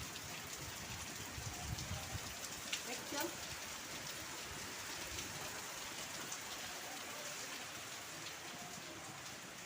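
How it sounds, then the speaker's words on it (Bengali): Steady monsoon rain pours outside, a dense hiss of drops on surfaces with no break, heard alone at moderate level. "দেখো বাইরে কিরম বৃষ্টি হচ্ছে আর সকাল থেকে বৃষ্টি হচ্ছে"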